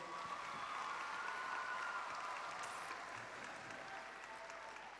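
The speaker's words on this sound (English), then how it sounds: "I think that deserves an even bigger round of applause." An audience applauds after a junior strings performance at a youth arts festival, producing a continuous, even wash of many hands clapping at moderate distance for the full stretch.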